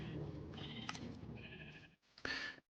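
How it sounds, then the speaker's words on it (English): Sheep bleating in the Minecraft video game: a run of wavering, nasal bleats, then a short pause and one more sharp bleat near the end, fairly close and clear. "You eat, eat, you silly sheep."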